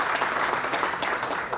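Audience applause at a Hindi cultural gathering for the Amrit Mahotsav celebration, a steady dense wash of clapping from a crowd, sustained and even throughout without a break.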